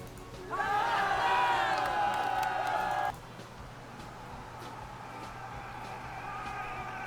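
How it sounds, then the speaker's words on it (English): Battle crowd sound effect previewed during game development: a loud, dense mass of shouting and cheering voices for about two and a half seconds, then cutting off abruptly to a low, steady background murmur. "Oh, battle crowd."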